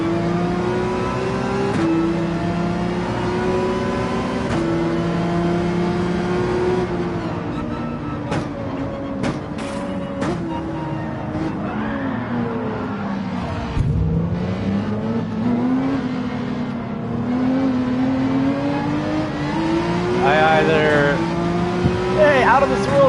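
A Porsche 911 race car in Gran Turismo 7 revs hard through its gears, the engine note climbing and dropping repeatedly with brief tire squeal, while a voice talks over the racing.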